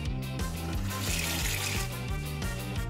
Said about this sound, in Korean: 물을 좀 더하면.